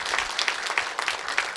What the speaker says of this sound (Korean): 우리 힘내시라고 박수 한번 보내주십시오